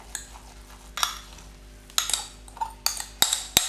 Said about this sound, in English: Put the couscous into the salad.